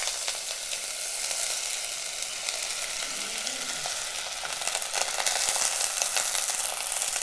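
Chopped carrot, elephant foot yam, raw plantain and brinjal for avial sizzle steadily in a little oil, a dense continuous hiss with faint stirring and no voices.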